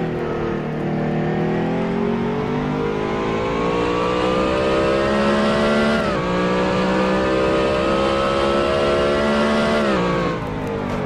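Engine sound from a race car in a racing video game at Long Beach, the motor droning loudly and rising in pitch through each gear before abrupt drops at the shifts.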